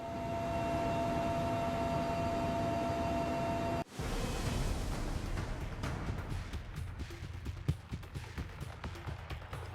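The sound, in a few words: helicopter flight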